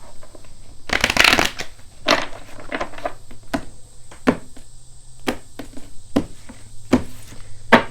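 Tarot cards being shuffled close up: a dense riffling burst, then a string of crisp, separate card slaps and taps spaced irregularly.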